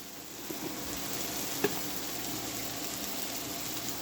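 Garlic added to a pan with chicken gives a soft, steady sizzle and crackle, faint and continuous, with a brief clink of stirring midway.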